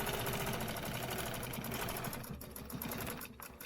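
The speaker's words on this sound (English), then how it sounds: "when I'm stitching these, I'm just trying to shoot for kind of stitch in the middle of the line." A sewing machine runs steadily, stitching along a stencil line on a quilting project, its fast continuous whir loud and close with no talk.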